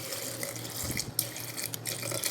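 Water running and splashing steadily while cooking a leafy greens curry (koshila saag), a continuous pour close by with no voices over it.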